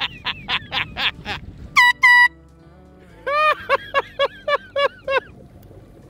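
Boat air horn from TheBetterBoat.com blasting in a series of short, loud honks, a pair of longer blasts in the middle, then another run of quick toots, with no talk.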